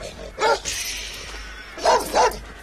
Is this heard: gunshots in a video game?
no